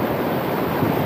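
Large ocean waves surge in a steady, dense wash of surf close by, filling the moment with continuous roaring noise and no voices.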